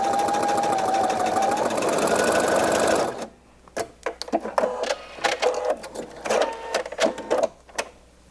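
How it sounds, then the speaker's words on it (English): A home sewing machine fitted with a twin needle runs steadily for about three seconds, a loud even whir, then stops, leaving light handling clicks and fabric rustles. "Lower your presser foot and begin stitching, guiding the fabric through so that everything stays straight."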